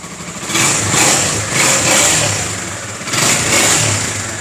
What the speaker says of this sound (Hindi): इस बाइक के अंदर जो है इसका जो साउंड है वो थोड़ा सा साइलेंट है।